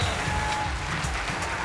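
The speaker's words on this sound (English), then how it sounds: "Let's give a good round of applause." Brief, dense applause from an audience at a fishing tournament weigh-in at Beaver Lake, a steady wash of clapping.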